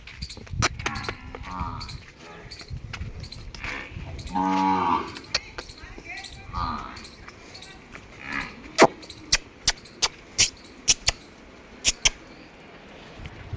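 Cows moo nearby, a couple of drawn-out low calls, followed by a series of sharp knocking or clattering sounds.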